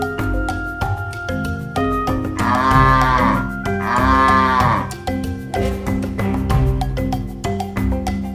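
Water buffalo low in the wild in two long, resonant moos close together, over a steady tonal backdrop.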